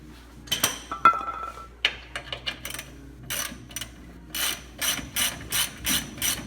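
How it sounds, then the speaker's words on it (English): A hand ratchet clicks in quick bursts of strokes, close and loud, while steering brace bolts are loosened on a 1994–2002 Dodge Ram during a power steering gearbox replacement, with no talking. "There's 2 bolts on this side and 2 on that side. We're gonna take those out."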